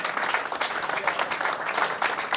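An audience bursts into lively, close applause for a winery team honored with fourteen medals at a harvest celebration in Saint-Julien-les-Martigues, the claps dense and uneven with light crowd murmur.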